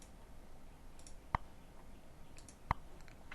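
A metronome ticks out a slow steady beat, two sharp clicks about 1.4 seconds apart over faint background hiss, with no talking.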